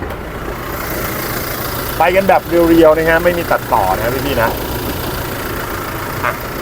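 The 2.8-litre, 204-horsepower diesel engine of a 2023 Toyota Fortuner 2.8V Legender Sigma 4 idles with a steady, even rumble, heard under someone speaking in the middle of the clip.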